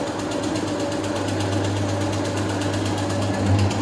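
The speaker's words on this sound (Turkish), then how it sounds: "Mevcutta görmüş olduğunuz gibi robot kanal açma makinesi R600 ile bu işlemi uyguluyoruz." An R600 robot drain cleaning machine running steadily while clearing a clogged drain, giving a constant close motor hum with a rapid rhythmic rattle and no talking.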